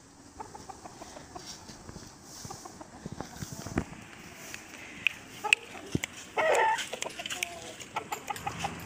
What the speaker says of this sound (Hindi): नायाब मुर्गे। हाँ जी।